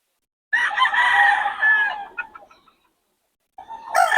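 Close chickens cluck and squawk in a loud burst, then fall silent before another rooster call begins at the end.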